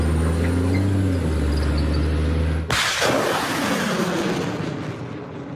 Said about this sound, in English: So basically they fired the Himars.